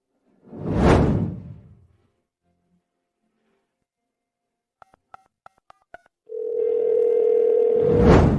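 A steady telephone dial tone sounds alone before a call, following a short whoosh and a brief run of separate keypad beeps, with another soft whoosh at the end.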